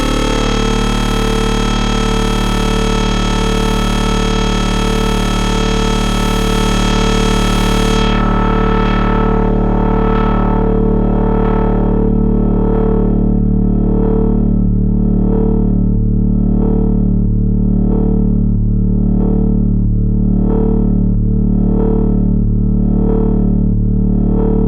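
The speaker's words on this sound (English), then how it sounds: "Press inward the AM. We also get amplitude modulation. Can get some very nice tones out of it." A Solar 42F synthesizer drones with amplitude modulation, a steady loud buzzing tone that shifts midway into a rapid rhythmic pulsing throb, sustained alone without voices.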